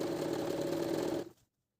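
Sewing machine running steadily as it stitches the hem of a loose palazzo, a continuous close mechanical whir that stops abruptly near the end.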